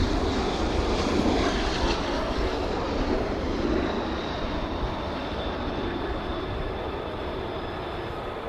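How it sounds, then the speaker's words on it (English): F-35 fighter jets spool up at RAF Lakenheath during night flying, a steady broadband engine roar that stays loud and constant across the whole stretch, with no voices. "can hear more 35s definitely spooling over there."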